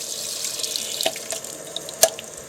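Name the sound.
water flowing out of RV water heater pressure relief valve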